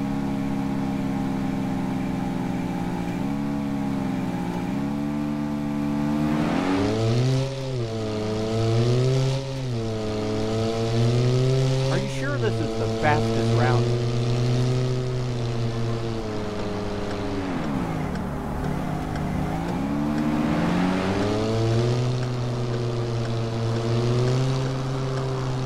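A car in Taxi Sim 2020 speeds through New York, its engine loud and continuous, repeatedly revving up and dropping as it shifts through the gears.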